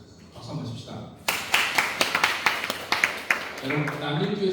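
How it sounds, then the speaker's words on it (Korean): An audience at a church summer retreat breaks into clapping after a short spoken lead-in, producing a burst of sharp, close claps that thins out toward the end as voices return. "박수 한번 칩시다."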